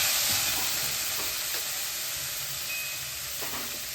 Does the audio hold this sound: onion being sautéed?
yes